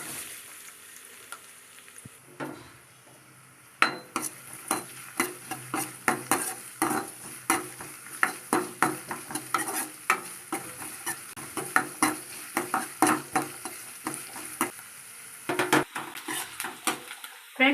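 Onion frying in a pan with a brisk sizzle, and a spatula scraping and clacking against the metal in a quick, repeated rhythm once stirring starts.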